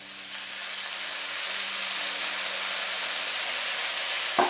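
Veg fried rice with soy sauce being stir-fried in a pan gives a steady, fairly loud broadband sizzle with a hissing quality, ending in a short scrape or clack near the finish.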